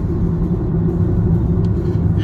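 A Nissan Leaf ZE0 electric car cruising at 78 km/h, heard from inside as a steady, loud low rumble of road and tire noise with no distinct engine note.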